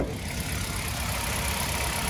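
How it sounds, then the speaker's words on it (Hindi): A used Hyundai i10 with a 1.2 litre petrol engine idles smoothly and quietly at close range, a steady low hum with no talking. "तो अभी कर दी गाड़ी को चालू, चलो एक बार इंजन चेक कर लेते हैं, इसका साउंड वगैरह जैसा भी आपको समझ में आ जाएगा"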